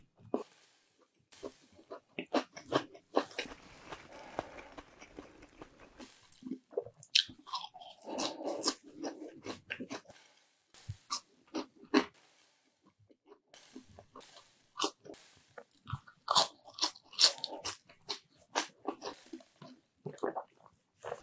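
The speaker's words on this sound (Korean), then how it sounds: "계속 먹어볼게요." Close-up eating of a Lotteria Sweet Earth Awesome burger with a soy-protein patty, plus cheese sticks, giving repeated crisp bites, crunches and soft squishy chewing in an irregular rhythm against near silence.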